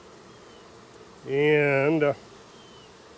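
A honeybee buzzes close by for under a second over honeycomb during a hive inspection. The drone is loud and strongly pitched, with a quieter background and a brief spoken word.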